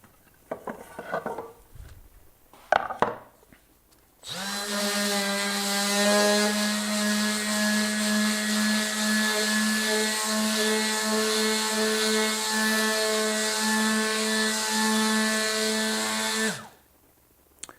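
A cordless M12 detail sander runs on a piece of wood, with a steady, loud, tonal motor whine lasting about twelve seconds after some brief handling clatter, then stopping abruptly.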